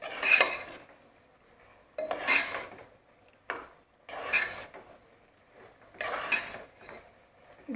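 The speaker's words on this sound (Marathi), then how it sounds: "आपण त्याच्यामध्ये मसाले चांगले भाजून घेऊया मटणाबरोबर" Mutton and spices roasting in a pressure cooker, stirred with a metal spoon in four regular bursts of scraping and clanking against the pot, separated by quieter gaps, close and without talk.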